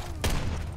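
A single loud silver rifle shot from a video game, a quick punchy blast that fades into a low rumble.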